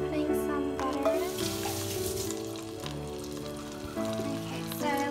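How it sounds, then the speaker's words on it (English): Butter sizzling and frying in a pan over high heat while cottage pie is being made, a steady close crackle with some faint clinks and stirring over the top. "I'll start heating it up on high heat. And I'm just putting some butter in."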